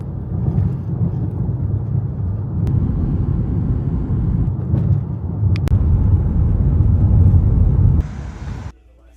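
A car rumbles along at speed, a loud, continuous low road and engine drone heard from inside, cutting off abruptly near the end.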